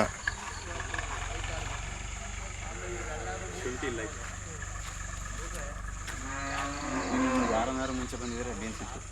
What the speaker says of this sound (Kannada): ಕರು ಇದೆ ನೋಡಿ